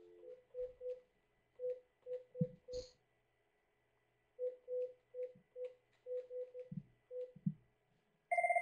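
Telephone keypad DTMF tones beep one by one in an irregular sequence during an international call on a Cisco CUCME phone system, with soft handset clicks between digits and a ringback tone starting at the end.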